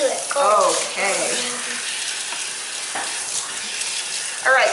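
Tap water runs steadily while a child's hair is rinsed, a continuous broadband splashing hiss, with a voice breaking in briefly near the start and end.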